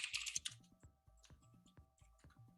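Quick typing on a computer keyboard, a near, quiet run of crisp key clicks in irregular bursts, with no speech.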